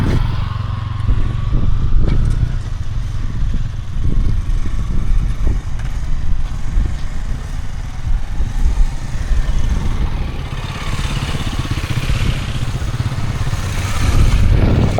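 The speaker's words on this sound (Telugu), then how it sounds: "తన బైక్ నేను నడుపుతున్నాను అనమాట. ఇప్పుడు MT-15 అంట." A Yamaha MT-15 motorcycle being ridden on the road hums with a continuous mid-low engine drone and wind rush, loud and close, rising and easing slightly over the ride with no speech.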